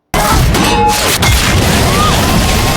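A loud, sustained blast of noise with a sharp crash partway through, like a plane explosion roaring continuously at close range.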